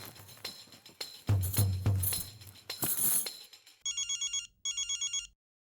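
An electronic telephone ring sounds in two short trilling bursts, clear and close, after a stretch of busy clattering noise.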